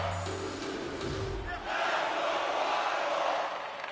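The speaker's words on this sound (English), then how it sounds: "You can feel the energy in this crowd." An arena crowd roars in the NHL 24 ice hockey video game, a broad, sustained wash of cheering that swells in the second half, with low rumbling underneath.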